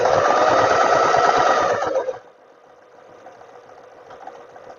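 A sewing machine runs a seam on a tailored vest in one loud, steady burst for about two seconds, then stops, leaving faint room noise.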